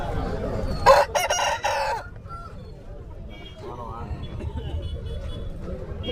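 Roosters crow and hens cluck at a busy Saturday hen market in Mydukur, a loud crow rising near the start over a crowd of murmuring voices and scattered bird calls.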